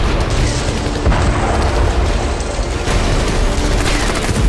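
Heavy artillery bombardment and shelling strike areas of western Russia, producing a dense, continuous barrage of loud booms and blasts. The bursts overlap with no pause.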